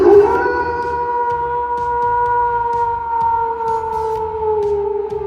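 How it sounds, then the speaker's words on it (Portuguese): A long, sustained howl holds steady and loud, a drawn-out wavering wail with no other sounds around it. "o descontrolado começou a uivar feito um animal selvagem"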